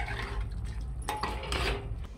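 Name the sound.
stirring mutton with turmeric and salt in a pot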